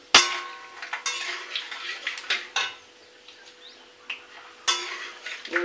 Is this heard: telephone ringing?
no